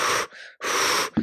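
Two sharp, forceful breaths blown out through pursed lips, like blowing out candles, used as a breathing technique during labor; close and loud, with a short pause between them and a faint catch of breath at the end.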